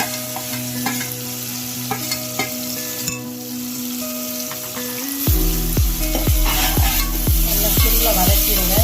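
Ground masala paste sautéing in a pan for spicy sea crab gravy: a steady loud sizzle, joined halfway through by rapid rhythmic scraping of a ladle stirring the paste, close and continuous with no talking.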